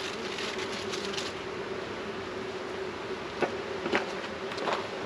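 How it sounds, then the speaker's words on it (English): A dense, steady buzzing hum of many honeybees inside a hive fills the recording, close and continuous, with a few louder individual buzzes passing near. "Yeah, they're just humming. So many bees."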